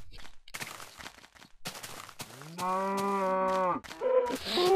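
Cows in the video game Minecraft: a few soft clicking steps, then one long, drawn-out moo that holds steady before breaking off, followed by a shorter second call.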